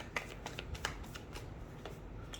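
Tarot cards being shuffled in a series of quick papery riffles and flicks, close and moderately loud with no one speaking over them.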